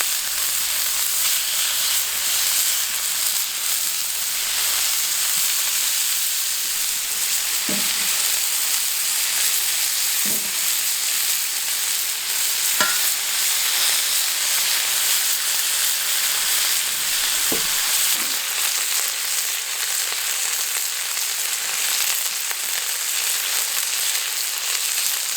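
Lamb shawarma kebab burgers sizzle on a BBQ plancha, a loud continuous frying hiss with a few faint clicks and spatula taps scattered through, no one speaking.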